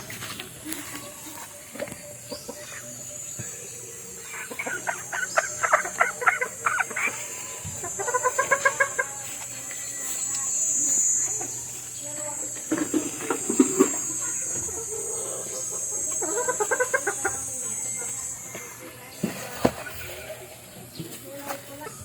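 Backyard pet chickens cluck and murmur in short scattered bursts through a long stretch, close by over steady outdoor hiss, with someone talking intermittently and some light tapping and pattering.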